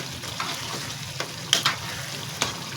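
Chicken karahi masala with onions frying in a pan, a dense continuous sizzle broken by a few sharp clicks of stirring, close and loud with no talking.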